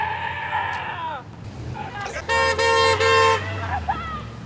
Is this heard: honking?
yes